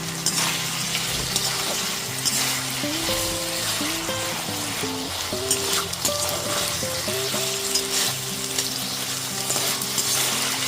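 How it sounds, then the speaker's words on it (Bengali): A spatula stirs chilli paneer sauce with dark soy sauce in a sizzling pan, making continuous scraping and frying sounds. A tonal melody plays underneath. "ডার্ক সয়া সসটা দিয়ে দেওয়ার পরেও খুব ভালো মতো মিশিয়ে নিচ্ছি।"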